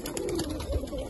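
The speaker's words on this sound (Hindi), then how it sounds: "ये कबूतर बहुत शानदार माशाल्लाह।" Golden teddy pigeons coo close by in a loud, throaty, rolling murmur that stays steady for about a second.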